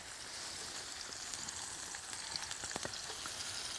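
Walleye fillets frying in a pan at a Red Lake fly-in camp, a steady hissing crackle with scattered pops, fairly quiet and continuous with no talk.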